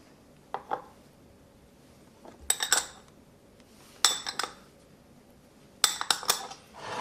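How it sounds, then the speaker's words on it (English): Dry pancake ingredients stirred in a bowl for buttermilk pancakes, heard as three separate bursts of utensil clinks and scrapes against the bowl, spaced a second or more apart over a quiet background. "We'll give these a stir to mix."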